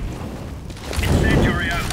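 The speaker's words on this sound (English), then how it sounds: "Throwing flashbang." A flashbang grenade goes off in the video game CS:GO: a loud, broadband bang at close range, followed by a thin, high ringing tone that lingers over low game noise.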